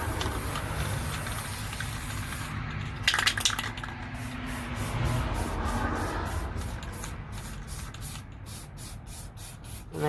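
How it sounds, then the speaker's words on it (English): Bursts of aerosol spray from a can of white flat Rust-Oleum paint coating a clear waterslide decal, with a few hissing passes and small rattles and clicks in between, close and fairly quiet. "I'm just going to take my regular old white flat Rust-Oleum paint"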